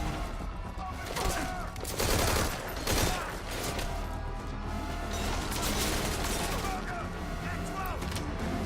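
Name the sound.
gunfire in Metal Gear Solid V: Ground Zeroes video game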